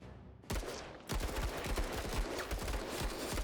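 A squad opens fire in the turn-based video game Menace, a brief shot followed by sustained rapid automatic gunfire, dense and loud, with no talk.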